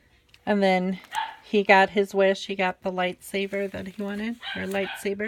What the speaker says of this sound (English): Sorry about the dogs. They're going crazy. We have yippy dogs